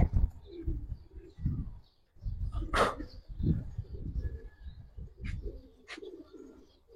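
Giribaz pigeons coo softly amid a burst of wing flapping, with a dog barking and people's voices in the background.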